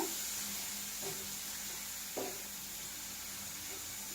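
Prawns and onions frying over medium heat until reddish, a soft continuous sizzle and hiss with a couple of faint stirring knocks, fairly quiet and close, no voices.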